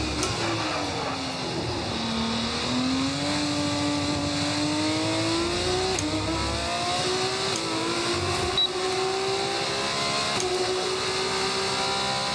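An F2 race car engine in an F1 career-mode video game revs steadily for the whole stretch, its pitch sliding down and then climbing back slowly, loud and close, with no talk over it.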